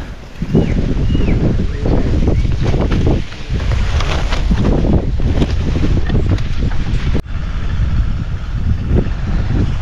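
Four irrigation pump engines watering an okra field run steadily, heavily buffeted by gusty wind noise on the microphone; no one speaks.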